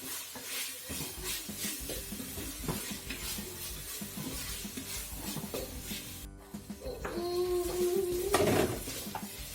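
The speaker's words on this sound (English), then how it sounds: "it will stick to the base of the pan a little bit, but that doesn't matter, just keep scratching it off" Curry paste is scraped off the base of a pan while cooking massaman curry, with repeated scratchy scrapes over a steady sizzle and occasional clinks of the utensil against the pan.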